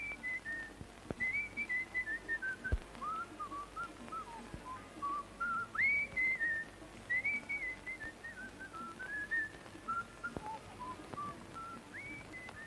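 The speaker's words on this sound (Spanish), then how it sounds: "Hasta me gusta lo que silba." A person whistles a lilting tune alone, phrases rising and falling with brief pauses, fairly quiet and clear.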